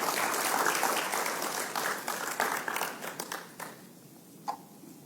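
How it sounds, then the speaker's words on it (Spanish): Church congregation applauding, a dense burst of clapping that thins into scattered claps and fades out, moderately loud with a roomy echo. "¿Qué tal si le da un fuerte aplauso al Señor?"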